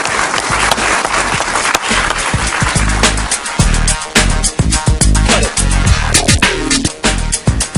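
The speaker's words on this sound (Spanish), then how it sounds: "Un aplauso para él." Studio audience applause on a Venezuelan evening talk show, broad steady clapping throughout with a few sharper claps standing out near the end.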